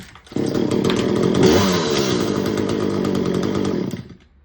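An Echo CS-370 chainsaw engine catches and runs at a steady high-pitched buzz for about four seconds, close and loud, then cuts off.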